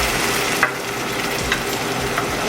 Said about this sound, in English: All right, so my rice is sauteing. I've got some white wine.